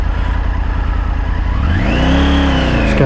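A 2023 Triumph Tiger 900 motorcycle pulls away at roughly half throttle on a road, its engine note climbing steadily in pitch as it accelerates, loud and close with a continuous rising drone.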